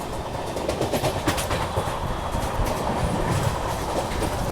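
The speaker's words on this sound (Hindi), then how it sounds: "फिलहाल अभी हमारी ट्रेन जो है वो कोसी कला को स्किप कर रही है" The Sampark Kranti Express runs through a station without stopping, a loud continuous rumble with rhythmic wheel clatter, heard from on board.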